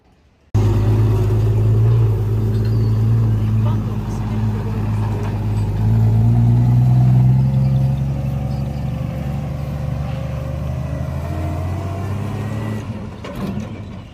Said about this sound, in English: Here is a video of it driving away.